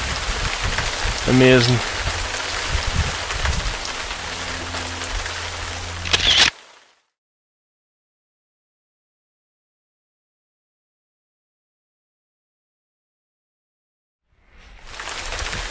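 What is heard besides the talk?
rain falling in the Cheviot Hills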